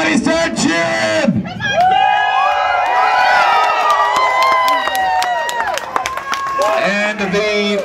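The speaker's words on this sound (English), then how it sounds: "Everybody start cheering!" A crowd cheers and whoops loudly with scattered clapping, many voices overlapping in a continuous roar that swells and holds for several seconds.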